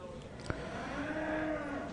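Cattle lowing at an Irish Dexter show during a national western stock show, a drawn-out moo rising and falling under the hall's ambient murmur, with a brief sharp click near the start.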